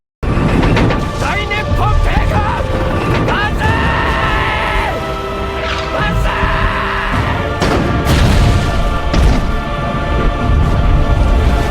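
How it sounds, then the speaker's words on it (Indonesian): Heavy tank cannon blasts boom through a loud, dense World War II film soundtrack, with rumbling impacts, crashing debris and shouting voices mixed in. "sehingga mereka pun terkena tembakan tank"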